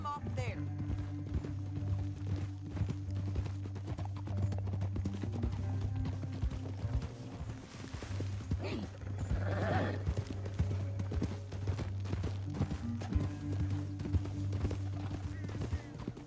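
Horse hooves clip-clopping in Red Dead Redemption 2 on a canyon trail, a steady rhythmic trot under a low engine-like drone and game music, with brief gunfire-like bursts and characters talking.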